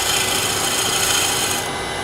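Sharpened bowl gouge riding its bottom bevel on a lathe, peeling real shavings rather than dust from a spinning wooden bowl; a steady, close rasping hiss runs unbroken throughout without talk.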